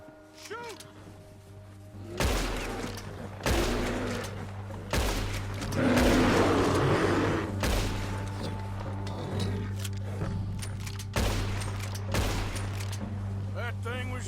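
Hunting gunfire in Red Dead Redemption 2: a series of loud, sharp shots at irregular intervals, each followed by a ringing tail, over a steady low hum, with no talk.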